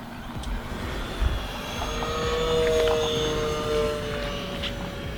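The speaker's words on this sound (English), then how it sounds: "This is just a fun plane to watch fly by." An E-flite Air Tractor 1.5m RC crop-duster plane flies past at moderate distance, its electric motor giving a steady thin whine that swells and then eases away over a faint outdoor background, with no talking.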